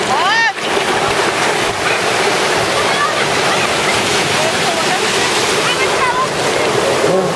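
Loud, constant surf and wave wash surround swimmers inside the sea at a hotel beach, with splashing throughout. Several people shout and talk faintly over the water noise.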